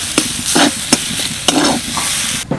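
Loud, close frying sizzle of a spiced filling with rhythmic scraping strokes of a spatula stirring the pan, several in quick succession.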